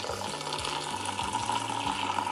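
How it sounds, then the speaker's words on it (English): Water added while making a matcha green tea latte, a continuous quiet pouring stream with a faint bubbling gurgle, heard up close and alone. "Lastly, just going to add some water."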